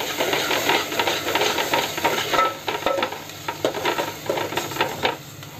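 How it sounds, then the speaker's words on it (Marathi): Malvani masala paste, a ground spice mixture, frying in oil in a pan with a steady, close sizzle and hiss, interrupted by the scrape of a spoon stirring the paste. "आणि आता मी वाटप घालणार आहे, आमचं मालवणी वाटप जे कमी करून ठेवतो ते एवढंच घालणार आहे। ते पण चांगलं तेलावर परतून घेते।"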